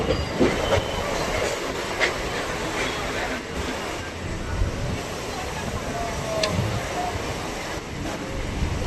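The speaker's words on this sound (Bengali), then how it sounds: "ট্রেন আমাদের প্রবেশ করছে খড়দা রেলওয়ে স্টেশনে, 1 নম্বর প্ল্যাটফর্মে।" A local train pulls into Khardah railway station on platform 1, with a steady rumble and clattering wheels close by and a constant roar of carriage noise throughout.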